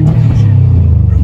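A turbocharged Subaru accelerates at a roll race meet, heard from inside as a loud, steady low engine drone that climbs slightly in pitch, with faint voices underneath.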